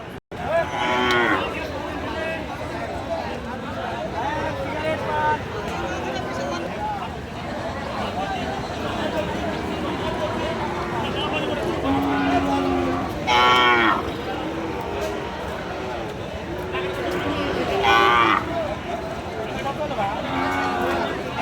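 Sahiwal cattle moo repeatedly at a busy livestock market, loud and close, over constant crowd babble and someone talking throughout.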